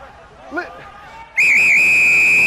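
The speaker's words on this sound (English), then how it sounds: "Referee whistles it up" A loud, shrill rugby referee whistle blast cuts in and holds steadily, after a brief burst of crowd chatter.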